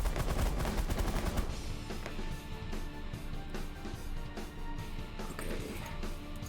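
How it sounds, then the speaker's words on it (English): Rapid sustained gunfire from a minigun in the space strategy video game The Last Federation, a dense loud burst of shots at the start easing into continuous rattling bursts mixed with game effects. "And minigun, fire at will."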